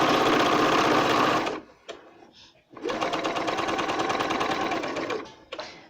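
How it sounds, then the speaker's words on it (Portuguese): A sewing machine stitches a seam on fabric bunting in loud, steady runs of fast rhythmic clatter, broken by a short pause between two long passes. "Comecei a costurar, dei o retrocesso, aí vou até o final."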